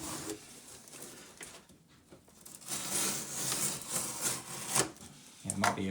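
Inner cardboard box being pulled out of a snug outer box that clings with slight suction; scraping, rubbing cardboard friction comes in uneven bursts near the microphone, with a person talking over part of it.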